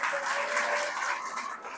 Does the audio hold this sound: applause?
yes